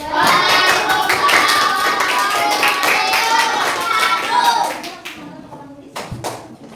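A classroom of students claps for a presenting group, a dense, loud patter of many hands that fades after about four and a half seconds into scattered taps and quiet voices.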